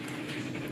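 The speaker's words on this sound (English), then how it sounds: "excuse my dog" A dog pants in quick, soft breaths close by in a kitchen, a faint steady huffing with no talk.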